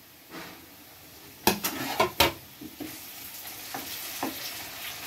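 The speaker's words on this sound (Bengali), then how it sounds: "এবারও হালকাভাবে ভেজে নেব, খুব বেশিক্ষণ ধরে ভাজব না" Eggplant and tomato fry over browned onions in a pan for a Bengali lotte fish curry, a steady soft sizzle broken by a few sharp clanks of a utensil scraping and stirring near the middle.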